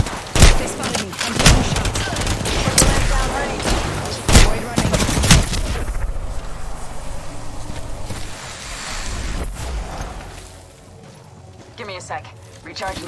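Rapid bursts of video game gunfire in a duos match crackle loudly through the first half, with heavy shots and clattering volleys, then give way to quieter rumbling ambience and scattered distant pops.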